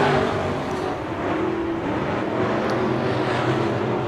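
Race cars roar down the back straightaway at Bakersfield Speedway during heat races, a loud continuous engine drone that stays steady with slight swells as the pack passes.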